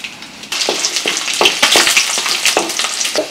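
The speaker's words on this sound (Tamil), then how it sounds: "இப்போ பூண்டையும் எண்ணெயில் பொரிச்சு எடுத்துடலாம்" Garlic frying in oil, a loud close sizzle that jumps up after a quiet start and keeps popping and crackling irregularly.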